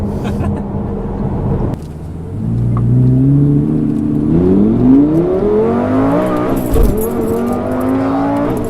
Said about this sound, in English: those shifts are so violent in sport mode